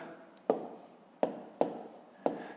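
Pen or pencil writing numbers on paper for a column multiplication sum, four short scratchy strokes each followed by a fading scrape, close and quiet with no talk.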